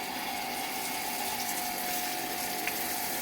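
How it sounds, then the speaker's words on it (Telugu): Water sprays steadily from a hose over tomato plants in a home garden, a continuous close hiss and gush with no break and no talking. "నీళ్ళు మంచిగా కొడుతున్నావు సోను."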